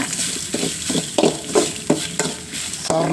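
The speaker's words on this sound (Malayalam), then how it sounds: "കരിയാതെ തീ കുറച്ച് വെച്ചിട്ട് നമുക്ക് വറുത്തെടുക്കാം" Dry scraping and stirring of grated coconut roasting over low heat in a pan, repeated spatula strokes every half second or so over a soft background sizzle, close and fairly loud.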